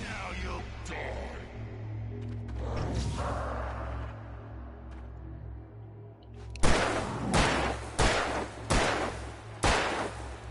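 Gunfire in the video game Alan Wake, with about five loud, evenly spaced shots that follow a stretch of whooshing game ambience.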